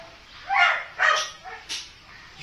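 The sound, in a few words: dog barking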